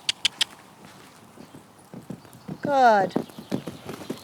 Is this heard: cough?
no